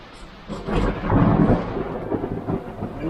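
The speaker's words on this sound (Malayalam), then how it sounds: "ഇടി വെട്ടുന്നുണ്ടേ" A deep roll of thunder builds and rumbles for a few seconds, close and loud, with wind-driven rain faintly beneath it.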